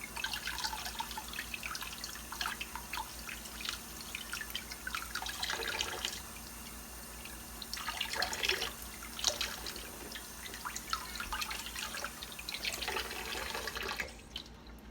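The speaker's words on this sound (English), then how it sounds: "While I run the water." Water runs from a kitchen sink tap while freshly cooked sweet potatoes are being peeled, a faint steady trickle with intermittent splashing swells and drips, quiet and close, with no speech.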